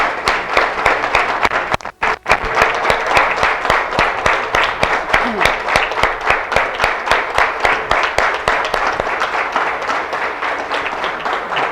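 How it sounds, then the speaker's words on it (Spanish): Church congregation clapping loudly in steady rhythmic unison at a Spanish-language Easter worship service, the beat briefly breaking near the start before continuing evenly throughout, close and full. "¿por qué no le das una ofrenda de aplausos a nuestro Rey?"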